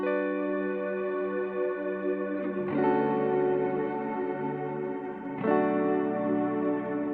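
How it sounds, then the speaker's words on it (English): Sustained guitar chords drenched in Valhalla shimmer reverb with filtering, a smooth washy pad of layered tones that swells and shifts chord twice, steady and fairly soft with no voices. "I love this reverb. It's called Valhalla. Like this is the shimmer one."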